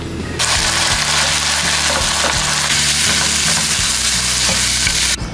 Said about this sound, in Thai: เราจะผัดแบบน้ำมันหอยธรรมดา